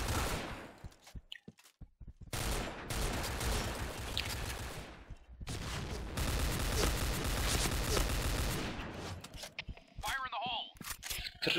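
Rapid bursts of gunfire in the shooter game Project Blackout, long sustained volleys of automatic fire separated by short gaps and a few single shots, with someone talking between them.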